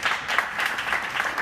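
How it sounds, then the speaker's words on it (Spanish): A small audience at a popular-science talk on exoplanets claps for the speaker Paco; a short burst of moderately loud, fairly even applause. "Un aplauso para Paco"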